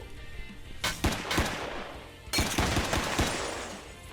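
Gunshots in the Roblox game Ohio: two quick bursts of sharp, close cracks, the second longer and denser, with nobody speaking.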